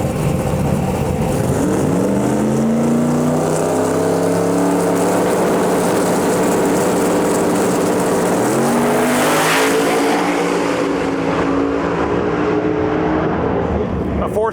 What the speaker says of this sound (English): up next we got Stephen Barnett in our lane here in the beautiful blue Fox body